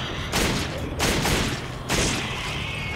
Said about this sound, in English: I gotta shoot this thing.